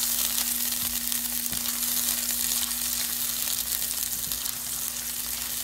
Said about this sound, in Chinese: 把油烧热来，然后把切好的葱花和蒜末放到这个热油里面去爆炒